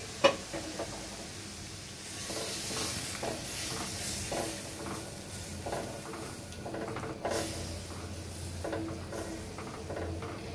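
Milk poured into fried vermicelli in a pan sizzles and hisses while being stirred, with a continuous close scraping and bubbling texture throughout.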